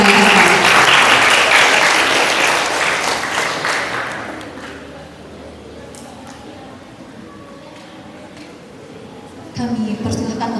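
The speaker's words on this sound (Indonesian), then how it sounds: "Berikan tepuk tangan kepada ibunda dan ayahanda." An audience at a ceremony bursts into loud applause that gradually thins and fades over several seconds into a quiet room murmur, with a brief stir of noise near the end.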